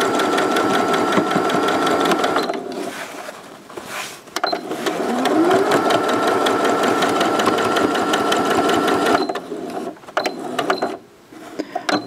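A sewing machine runs in steady loud bursts as it stitches a dry hot water bottle filled with rice, rapid mechanical rattling with a brief pause and restart near the end, no voices.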